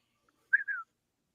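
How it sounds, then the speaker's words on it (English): A person gives a short two-note whistle, quick and clear, isolated against near silence. "You whistling him over?"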